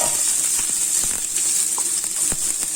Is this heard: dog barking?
no